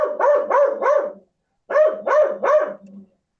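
A dog barks loudly and close by in two quick bursts of three rhythmic barks each, with a short pause between the bursts and no talk over them.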